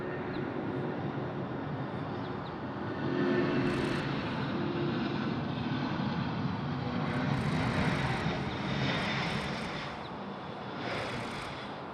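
An airliner lands on runway 16 right at Sydney Airport, a broad, steady jet roar that swells and fades slightly over about twelve seconds, heard from some distance.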